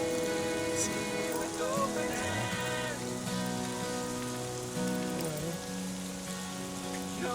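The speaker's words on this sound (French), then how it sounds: "Parce qu'il pleut, là, puis on n'aura aucune goutte de pluie." Steady rain patters on an RV roof overhead, a continuous drumming hiss with faint tonal hums underneath, no voices.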